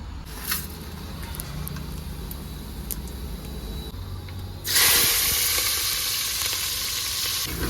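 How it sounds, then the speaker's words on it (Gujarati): Mustard seeds and cumin tempering in hot oil, a steady close sizzle that jumps sharply louder partway through as the seeds hit the pan, then holds a bright, continuous crackling hiss. "તેલ મૂકી દીધું છે ગરમ થઈ જાય એટલે હમણાં નાખીએ આપણે પેલા આ શું કહેવાય રાઈ જીરું"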